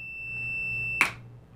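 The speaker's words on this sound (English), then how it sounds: "The meter beeps, letting me know that there's a path for current to flow between these two points" A multimeter gives a steady high continuity-test beep for about a second, then it cuts off abruptly with a short click or rustle, close and clear.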